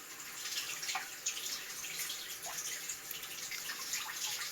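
Cold water pours steadily from a kitchen tap in a broad, even hiss that stays close and constant throughout, with no talking.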